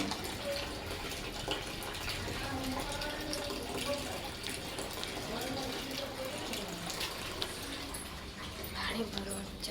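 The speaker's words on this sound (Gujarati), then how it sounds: "પાણી ભરવાનું ચાલુ છે અત્યારે." Tap water runs steadily into a container in a home yard, a continuous broadband wash of filling water under quiet background talk throughout.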